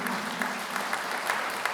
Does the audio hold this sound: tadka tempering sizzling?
no